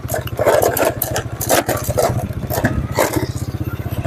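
Motorcycle engine idling steadily with a rapid low-pitched pulsing throb, loud and close, with some clatter and scraping noise mixed over it.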